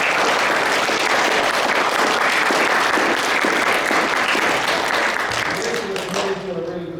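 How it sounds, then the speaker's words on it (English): An audience at a rugby club prize giving claps in loud, dense, sustained applause that fills the room for several seconds and then tapers off as a voice begins speaking. "So I'd like you all to give them a round of applause"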